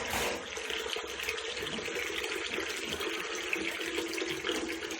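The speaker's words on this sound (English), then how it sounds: "I'm going to rinse that under water." Tap water runs steadily into a sink while prosthetic hair pieces are rinsed under it, a continuous splashing hiss with no talking.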